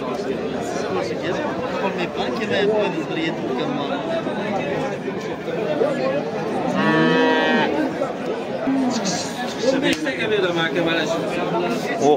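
A cow lets out a long, loud moo amid a busy crowd of people chattering nearby at a livestock market in Bo'ka, Tashkent region, with more animal sounds in the background.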